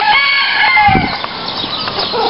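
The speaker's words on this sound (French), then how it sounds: "des coqs" Several roosters crow over one another, their drawn-out calls overlapping with hen clucks in a busy animal park farmyard.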